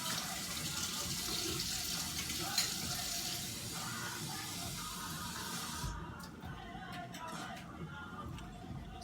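Warm water runs steadily from a tap into a container for bread yeast, a constant close hiss and splash that eases and turns quieter toward the end.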